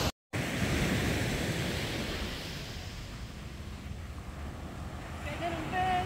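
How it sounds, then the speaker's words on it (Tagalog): Strong ocean waves surge and wash onto Hac Sa beach in Macao, a continuous loud roar of surf with wind buffeting, steady throughout after a brief silent gap at the start. "Ay, ang lakas ng alon."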